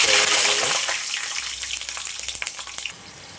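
Loud hissing sizzle of spices and green chilies dropped into hot oil, settling into crackling and popping, close by.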